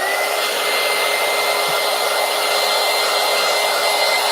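A hair dryer blows a loud, steady whoosh at close range to dry paint on a paper collage, with the continuous tone holding unchanged from start to finish and no voices.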